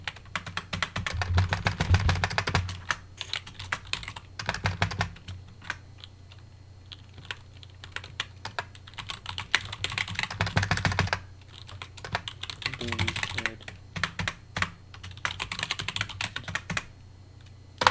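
Rapid, uneven clatter of keys on a computer keyboard as a command is typed out, with brief pauses between bursts and a steady low hum underneath; no one speaks.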